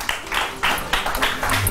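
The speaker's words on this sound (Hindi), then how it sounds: "बहुत सारी तालियां।" A small group claps in short rhythmic bursts over a brief moment, fairly close and loud, with no talking.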